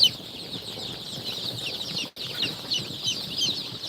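Many small native and Sonali breed chicks cheep constantly in a busy, high-pitched chorus, close by and without talk, with a brief cut partway through.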